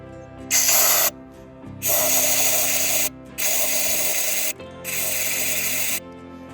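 PB Blaster penetrating oil sprayed from an aerosol can while servicing a windmill: four loud hissing bursts, each about a second long, separated by short gaps.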